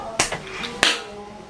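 Two sharp hand claps ring out close by, spaced well over half a second apart, over a faint indoor background.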